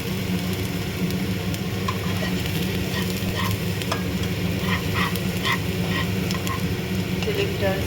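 Chicken sautés with garlic in a pan over a gas flame, a constant loud sizzle with light clicks and scrapes as tongs stir and turn the pieces, and no talk over it.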